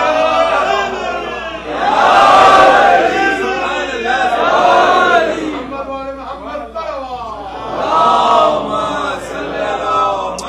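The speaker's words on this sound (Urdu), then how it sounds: "ہم نے صرف علی کے نعرے سنے ہیں." A crowd at a Shia majlis in a Chicago Islamic center chants religious slogans for Ali, loud swelling group shouts rising and falling in waves, close and reverberant.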